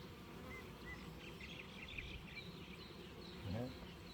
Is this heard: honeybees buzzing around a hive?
yes